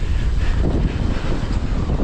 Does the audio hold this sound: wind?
yes